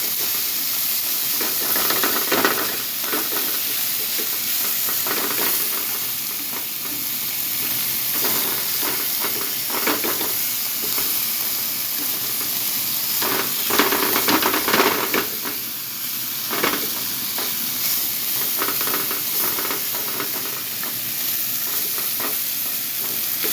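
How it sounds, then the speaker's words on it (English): Tortillas cook over an open gas burner flame, giving a continuous roaring hiss with intermittent crackling and sizzling bursts as they are turned, steady throughout. "we're going to cook our tortillas over open flame"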